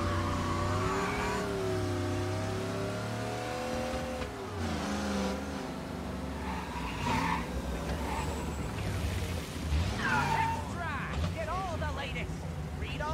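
Car engine in Mafia Definitive Edition, the Don's sports car, droning steadily as it drives and revs, with tire noise and a skid, under ongoing talk throughout.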